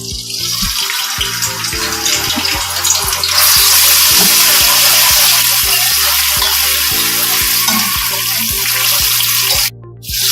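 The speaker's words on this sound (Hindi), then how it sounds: "ये वो घी है जिसमें मैंने अनियन को फ्राई किया था, इसी घी के अंदर ये लहसुन डाल देंगे" Steady hissing sizzle of garlic frying in hot ghee already used to fry onions, loud and continuous, with faint clinks and a brief pause near the end.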